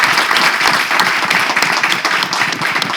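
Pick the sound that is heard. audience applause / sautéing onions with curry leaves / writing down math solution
audience applause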